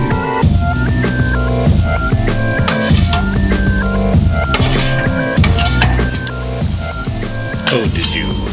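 Chopped cheese meat is chopped and sizzles on a hot griddle, with steady rhythmic scraping and tapping hits over a continuous fry, loud and close, with a tonal background running underneath.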